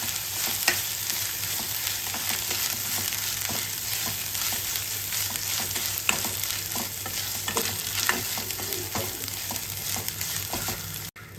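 Ginger garlic paste fries in hot oil in a pan for pepper chicken, a steady close sizzle with light stirring scrapes and occasional pops, no voices.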